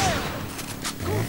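Shotgun blasts in Resident Evil 5 come in a quick cluster of sharp, booming shots over a short stretch, close and loud, with faint voice traces underneath.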